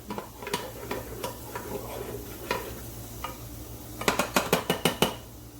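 Garlic cooks in butter in a pan with a soft, low sizzle, under repeated clinks and scrapes of a utensil stirring. A quick run of sharp taps comes near the end.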